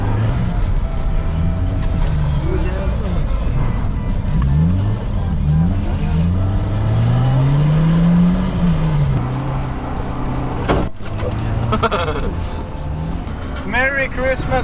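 A Saab and other cars drift in tandem at a Christmas drift event in Örnsköldsvik, engines droning and revving with rising and falling pitch sweeps and brief tire squeals, under loud continuous shouting and talk.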